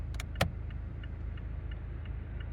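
Mazda 3 BM with a 2.0 engine idling quietly, heard from the cabin as a soft, steady low hum, with a brief click near the start and faint regular ticking throughout.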